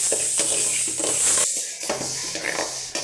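Dried chillies are dry roasted in a pan for homemade chilli powder, with close, repeated scraping and rattling strokes of stirring against the metal over a soft hiss.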